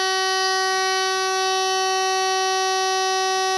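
A Logic 4 metal keyswitch burglar alarm panel sounds with a loud, steady electronic tone that holds at one pitch, unbroken and alone, for the whole few seconds.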